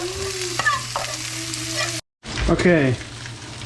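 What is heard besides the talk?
vegan gyro log searing in a hot pan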